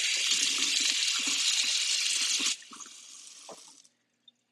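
Cold tap water gushes steadily for about two and a half seconds while shrimp are rinsed beneath it, then the flow cuts off, followed by a few wet handling sounds, drips and a last small splash.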